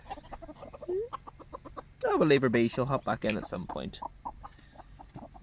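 Guinea fowl clucking and calling as they are let out on a farm in the morning, a busy burst of loud, close bird calls with scattered clucks around it, while people talk nearby.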